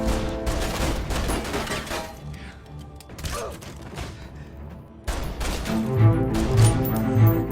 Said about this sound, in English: Other men start shooting at the car, and Garcia hears the gunfire.